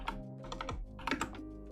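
Close, fairly quiet typing on a computer keyboard, a quick run of clicking keystrokes in two short bursts with no talking.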